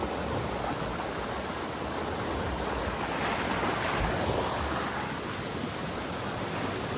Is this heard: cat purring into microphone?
no